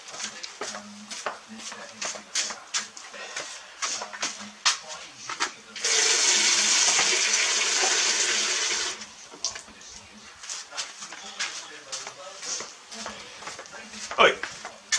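Water gushes steadily for about three seconds, as if from a tap filling a container for watering flowers, set between stretches of light clattering and people talking.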